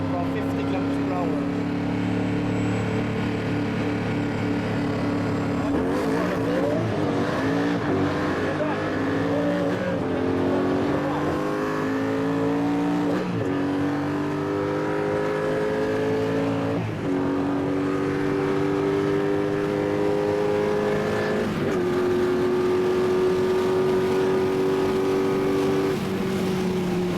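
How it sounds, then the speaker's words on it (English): A Koenigsegg CCR Evolution and a Porsche Carrera GT accelerate hard from 50 km/h, a loud in-car engine roar climbing steadily in pitch through several gear shifts, each marked by a brief dip before rising again. "Koenigsegg CCR Evolution versus Carrera GT. From 50 km/h."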